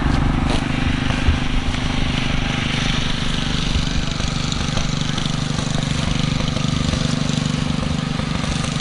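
A 1916 Mogul 816 engine runs at a farm show, a steady close, loud low chugging drone with an even rapid rhythm that holds unbroken throughout, with faint voices in the background.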